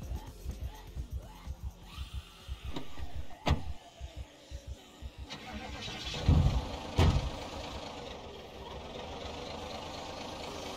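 Car engine cranking and catching in the Project Zomboid video game, a series of short mechanical bursts followed by a louder start-up rumble, with sparse speech nearby.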